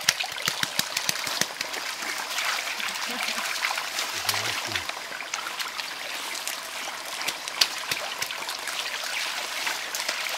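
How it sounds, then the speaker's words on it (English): Mountain gorillas play in a small stream, setting off steady trickling and splashing water throughout, with sharp intermittent slaps and splatters up close. "Nyampazi and Kanywani busy playing with water."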